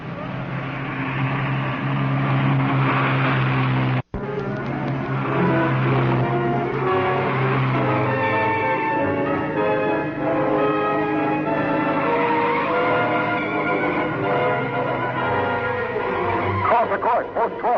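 A race car on a qualifying run roars steadily at a loud, close range, its engine note rising and shifting through the run, with a brief cut partway through and a voice heard over it.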